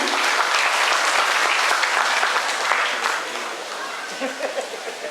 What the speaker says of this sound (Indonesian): Kita berikan tepuk tangan Bapak Ibu jemaat yang dikasihi Tuhan.